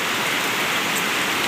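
Steady rain falling in a village in early July, a dense, even hiss of drops on surfaces with no pauses and no voices.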